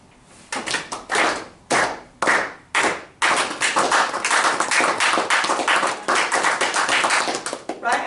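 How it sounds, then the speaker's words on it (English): A group at a meeting claps hands together on cue: several sharp, separate unison claps at first, then a sustained run of steady rhythmic clapping, loud and close. "Now I want you to clap with me again."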